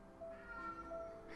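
A cat meows after eating, a short drawn-out tonal call rising and falling close to the listener over a quiet room background.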